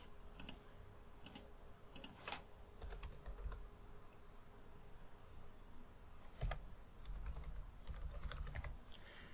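Keyboard typing while filling in an online application form, with irregular bursts of key clicks and pauses, fairly quiet and close, with no voices.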